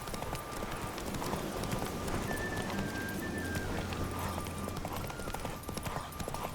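Roach, Geralt's horse in The Witcher 3, gallops with a fast, steady clip-clop of hooves over a continuous game soundscape.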